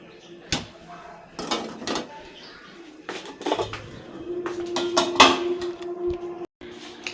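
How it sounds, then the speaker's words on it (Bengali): Lid being set onto a pot of freshly heated milk in a home kitchen, giving a few sharp metallic clanks and rattles scattered among softer handling noises, close by with no talk. "চলো দুধটা ঢেকে রাখি।"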